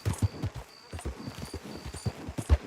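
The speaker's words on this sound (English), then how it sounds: "Just let the horse run." A horse in Red Dead Online gallops along in cinematic mode, its hooves landing in a steady, close, rhythmic clip-clop with soft thuds between strides.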